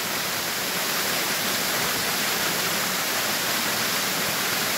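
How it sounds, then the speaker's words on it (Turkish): Steady, dense rush of water from a small waterfall formed on Kelleci Deresi, a creek in Muğla, on a cool autumn morning; a continuous broadband roar with no voices over it. "derede böyle bir şelale oluşmuş"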